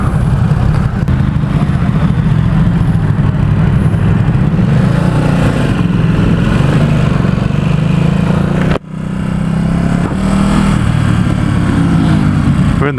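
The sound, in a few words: Ducati SuperSport S motorcycle riding through city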